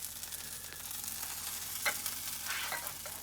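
Brie grilled cheese sandwiches searing on a griddle give off a soft, steady sizzle with faint crackles, quiet and close, with no talking.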